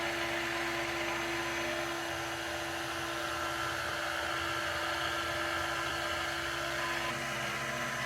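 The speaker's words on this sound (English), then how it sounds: "turn the hand mixer off" An electric hand mixer runs continuously while fresh pasta dough for pesto pasta is worked, giving a steady, loud motor whine with a constant tone throughout and no voices.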